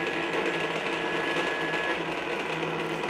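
A Ryobi 36V HP brushless battery-powered crushing shredder has its motor running at speed two, a steady close mechanical whir with a faint high whine and no pauses.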